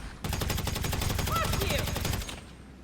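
Gunfire in GTA V Online comes as a rapid, dense string of loud blasts lasting about two seconds, with a voice faintly heard over the shots.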